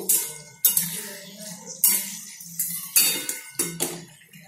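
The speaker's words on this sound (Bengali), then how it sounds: "নাড়তে থাকবো হালকা হাতে" Metal spoon scraping and knocking against a pan while chili paneer is gently stirred, with about six sharp clinks spaced through the clip over a low sizzle.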